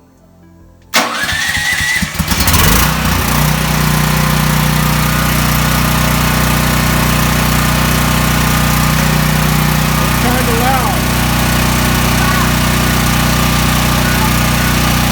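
A small Champion dual-fuel gasoline/propane portable generator starts with a pull and a sputter, then runs at a loud, steady drone; someone speaks briefly over it.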